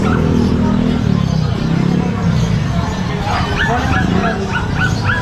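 A rough collie puppy barks and yips repeatedly, with whimpering cries, over a background of crowd chatter and voices at a pet show.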